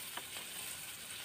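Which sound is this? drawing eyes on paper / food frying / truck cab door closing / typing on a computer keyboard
food frying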